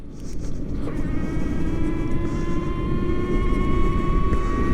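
An electric motorcycle-style e-bike accelerating steadily through its gears, giving a sustained whine with rising tonal lines over continuous road and wind rumble, close and fairly loud with no talking.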